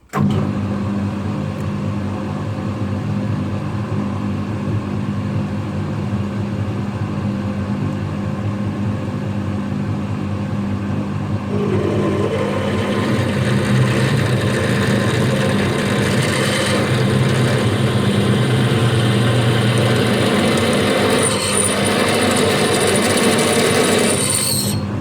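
Steady mechanical whirring of a lathe that changes near the halfway point into a louder, harsher grinding as a 10 mm drill bit cuts into a metal motorcycle-trailer axle pin, continuing without speech.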